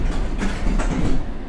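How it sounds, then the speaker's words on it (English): London Underground train departing in a train simulator, a steady rumble of running gear with faint rhythmic clatter, continuous and close for a brief moment. "This train is ready to depart."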